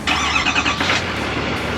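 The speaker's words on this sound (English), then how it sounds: "All right, so let's get this thing started." A Chevy 3500 HD pickup's engine cranks and fires up close by, a steady broadband rumble that holds loud and even for under two seconds with no talking over it.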